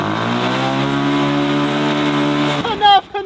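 A kids' ride-on tractor stuck in mud holds a steady, droning motor whine under shouted talk, then the pitch shifts and breaks up as it strains in reverse.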